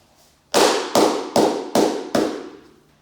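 A tightly rolled-up magazine strikes a surface five times in quick, even succession, each hit a sharp, loud crack that decays briefly, with nothing else heard.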